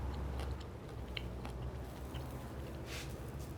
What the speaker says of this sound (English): Savory, and then the crunch from the asparagus, really good.